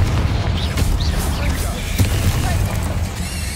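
A Confringo fire spell blasts in a spellcasting video game, with booming bursts and crackles rolling through dense, continuous game noise while voices sound underneath.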